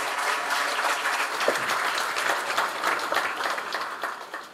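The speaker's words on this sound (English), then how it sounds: "let us have a great round of applause for respected Pal Madam" An audience at a judiciary career talk applauds a speaker, a dense, lively round of clapping that holds steady for several seconds before tapering a little at the close.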